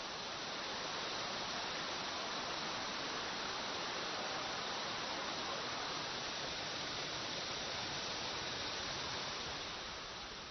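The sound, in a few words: Jiuzhaigou waterfall, widest waterfall in China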